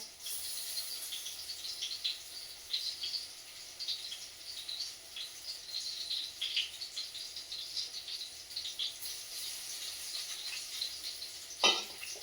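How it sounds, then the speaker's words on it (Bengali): Thick-cut brinjal slices frying in oil make a faint, steady, high sizzle with small crackles and a short sharp clink near the end, with no talking. "এই যে মোটা মোটা করে বেগুন কেটে ভাজছি"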